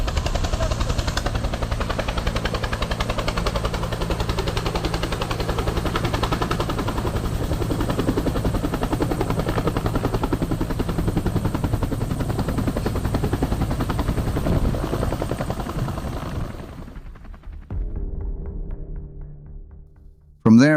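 A Vietnam War medevac helicopter's rotor thuds steadily and loudly for a long stretch, with faint gunfire mixed in, before fading out to near silence.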